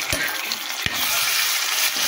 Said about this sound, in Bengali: আর আদা দিয়ে দিলাম, আদাও কিন্তু বেশি ভাজা যাবে না